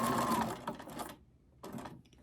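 Sewing machine stitching a paper junk journal tag, a brief close burst of rapid needle chatter that stops, pauses in silence, then runs again for another short burst.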